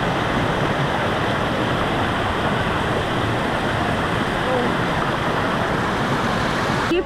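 Water rushes down a waterfall at full flow into a deep swimming spot in the Philippines, a loud, constant roaring wash that holds steady throughout with no pauses.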